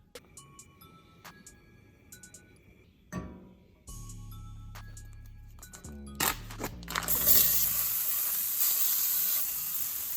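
Seitan frying in a skillet for vegan lettuce wraps, starting with a few faint clinks and pops before a loud, steady sizzle takes over and builds as the pieces crisp.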